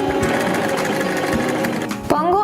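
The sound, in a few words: Janome 523H sewing machine stitching to secure a button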